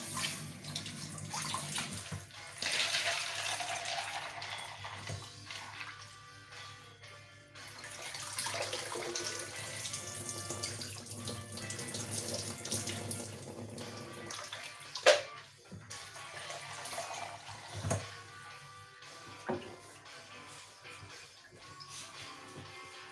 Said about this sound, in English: So I'm gonna run that in water, cold water.